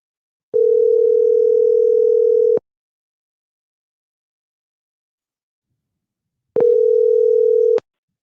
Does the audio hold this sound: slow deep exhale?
no